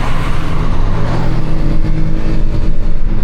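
A Volkswagen CC Sportline's 1.4 TSI 160 hp engine runs hard in sport mode while its tires spin, making a loud, steady drone of engine and road noise close by.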